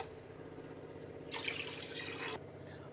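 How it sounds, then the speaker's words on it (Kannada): Water pours into a pressure cooker holding washed moong dal in a single soft splash lasting about a second. The sound is faint and close, with no voices. "2 ಕಪ್ ನೀರು ಹಾಕೋಣ."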